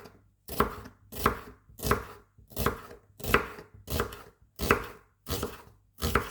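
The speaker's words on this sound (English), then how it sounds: "Now I just cut them into half and then slice them thinly like this." A knife thinly slices halved onions on a cutting board for a Kerala-style chicken curry, producing eight evenly spaced, crisp chopping strokes close up with quiet gaps between them.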